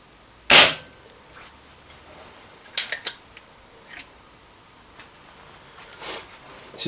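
A Mad Max Contender green gas airsoft gun with a long 370mm barrel fires a single 0.2 gram BB, one sharp loud crack, then a few faint clicks and taps in a quiet setting.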